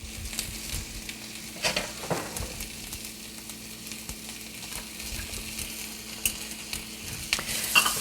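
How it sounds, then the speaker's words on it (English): Diced onions frying in shimmering oil in a 12-inch nonstick skillet over medium heat, a steady close sizzle with occasional stirring scrapes and pops throughout, no talk. "add 1 cup of diced onions."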